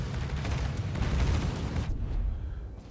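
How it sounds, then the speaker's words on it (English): Aircraft bombs explode close beside a battleship in World of Warships, a loud rumbling blast with heavy low boom and debris crackle that cuts off and fades near the end. "both those bombs bracket either side of the Georgia"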